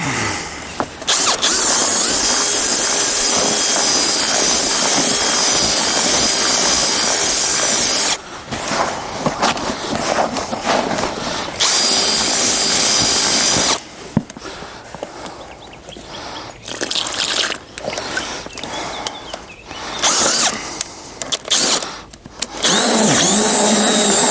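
Electric hand mixer whirring as it stirs fishing groundbait with water for pond fishing, a loud steady buzz running in long bursts with short pauses between, no talk over it.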